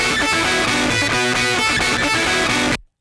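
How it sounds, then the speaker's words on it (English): Electric guitar played through a Thermionic Culture Vulture tube distortion with the overdrive button engaged, giving a loud, dense, heavily crushed tone of sustained chords that cuts off abruptly near the end. "if you want to totally crush it, you hit this overdrive button"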